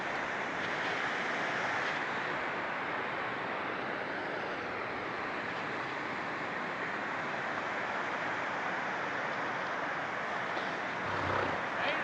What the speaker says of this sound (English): Sounds scary, that water, doesn't it?